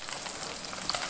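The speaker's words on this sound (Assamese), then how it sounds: "মাছখিনি এনেধৰণে ভাজি ল'ম" Small fish fry in a pan of hot oil, giving a steady, dense sizzle and crackle at close range. The sound stays even throughout, with no talk.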